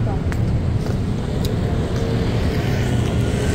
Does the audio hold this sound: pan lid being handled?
no